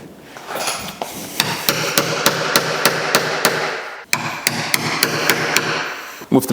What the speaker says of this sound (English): I'm gonna use a chisel for our horizontal lines at the top and bottom.